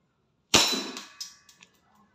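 A DB 1911 MEU semi-automatic airsoft pistol fires, giving one sharp, loud crack up close. A metallic ringing decay and a few small clicks and rattles follow.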